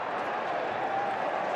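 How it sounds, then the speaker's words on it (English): Stadium crowd at an AFL match between Brisbane Lions and St Kilda in 2015 applauds a free kick awarded to Brisbane, a steady, dense wash of clapping and cheering filling the whole clip at moderate distance, with no clear gaps. "Crowd applauding the fact that Brisbane Lions got a free."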